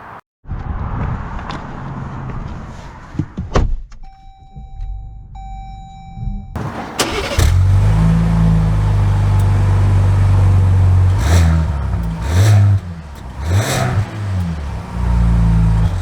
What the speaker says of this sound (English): Let's see how this Hurricane engine drives.